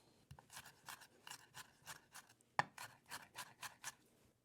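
A knife chops through onion pulp for a stuffed onion filling in steady, evenly spaced strokes, close and fairly quiet, with one sharper, heavier thump partway through.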